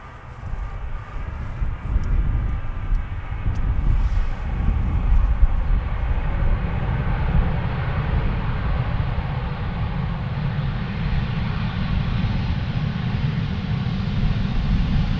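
An airliner arriving from London Heathrow at Amsterdam Schiphol on runway 18R passes as a deep, steady jet roar building from quiet to a sustained loud rumble, alone without talking.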